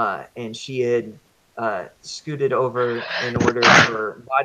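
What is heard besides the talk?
sneeze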